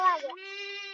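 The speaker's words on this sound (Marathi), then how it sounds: "मेंढ्या बी आल्या आता" A single sheep bleats once, close and clear, with a short wavering start settling into a steady drawn-out note, at a forest camp at dusk.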